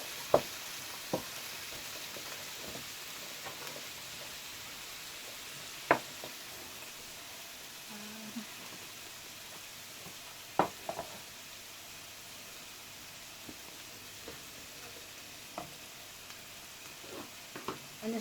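Celery and garlic frying with mince beef in a pan, giving a faint steady sizzle with a few soft clicks of stirring scattered through.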